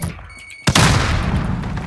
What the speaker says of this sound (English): Throw a grenade!